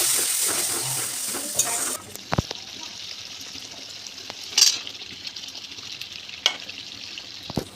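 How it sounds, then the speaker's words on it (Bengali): Potatoes fry in a pan, giving a steady close sizzle that starts loud and settles quieter, with occasional sharp clinks and scrapes of stirring against the pan. "এই যে আলুগুলোকে এখন আমি ভেজে নিচ্ছি"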